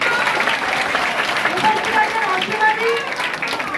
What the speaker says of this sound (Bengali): আমি কল্যাণদার জন্য একটা জোরে হাততালি।